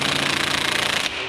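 Impact wrench hammering wheel studs tight on an RZR 200 at a low torque setting, a loud close rapid rattling burst lasting about a second before cutting off.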